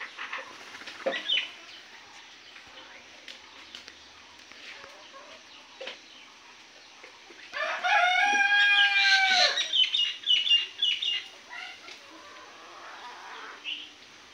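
Layer and tiger chickens on a farm give soft scattered clucks, then a loud, close, drawn-out rooster-like crow or cackle in the middle, followed by further intermittent clucking with no talking.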